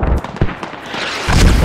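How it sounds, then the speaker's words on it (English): Mortar explosions in the video game Squad, with a few heavy booms in quick succession, loud and close, and a rumbling tail between them. "Friendly mortars are supporting him now."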